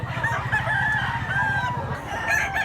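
A black-legged bullstag rooster in Mantalungon, Cebu crows once near by, its cock-a-doodle-doo ringing out clearly over clucking and low background murmur.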